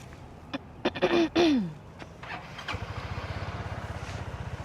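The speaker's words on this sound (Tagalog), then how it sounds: "Start mo na yung motor." Throat clearing and brief voices come first, then a motorcycle engine starts and settles into a quiet, steady putter nearby.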